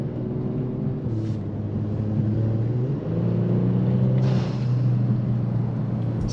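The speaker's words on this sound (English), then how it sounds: "This is stock exhaust" A Kia Stinger with its stock exhaust hums at a low, smooth idle, then its pitch swells and dips through a couple of moderate revs, the engine tone staying subdued and droning throughout.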